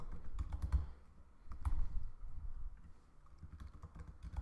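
Keys clatter in quick bursts as a password is typed on a computer keyboard, close and fairly quiet, with short pauses between runs of keystrokes.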